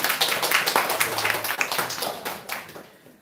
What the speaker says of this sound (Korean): 그래도 박수로 환영해 주실까요?